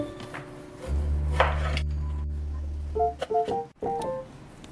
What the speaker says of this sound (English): Let's start chopping.